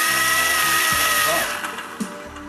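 A DC motor powered by an ordinary drill battery spins with a loud high whine that runs steadily and then winds down, with a couple of clicks as it slows.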